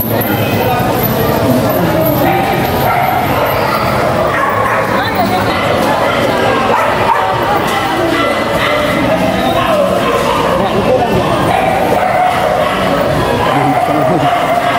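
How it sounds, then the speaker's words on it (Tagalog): Several dogs bark and yip amid a loud, busy background of people chattering nearby. "Dami kasing aso."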